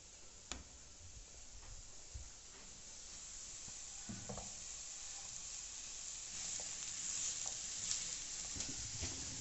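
Onion, carrot and sausage fry in a pan, giving a soft, steady sizzle with scattered light clicks and ticks, quiet and close, with no one speaking.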